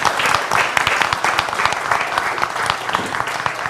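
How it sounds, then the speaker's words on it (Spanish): Audience applause closing a Rotary Club talk, a lively burst of many hands clapping with sharp individual claps standing out, loud and sustained throughout. "Te lo agradecemos con este aplauso"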